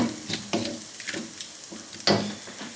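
Coconut curry with prawns being stirred in a pan, with a few soft scrapes and knocks of a spoon over a faint simmer, close and fairly quiet.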